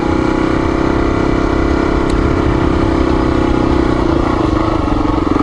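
Honda XR400R dirt bike engine, recently adjusted valves, running steadily and close with a dense, continuous mechanical drone and clatter, no pauses or revs, and no talking.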